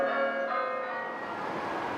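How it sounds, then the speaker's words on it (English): Church bells ring from a Catholic church in Indianapolis, a clear bell strike with long shimmering overtones that slowly decay, alone and fairly soft. "church bells rang at Catholic churches across Indianapolis"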